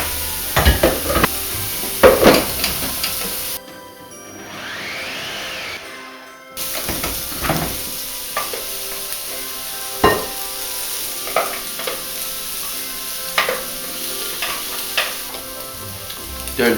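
A beef fillet searing in a pan with brown and portobello mushrooms gives a steady, close sizzle of frying, broken by scraping stirs and clatters. The sizzle drops out briefly near the middle.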